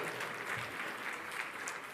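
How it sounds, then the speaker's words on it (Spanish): An audience at a Spanish-language religious lecture gives a brief, faint round of applause, soft, steady clapping heard from a distance for a couple of seconds. "Si quieren aplaudir, aplaudan"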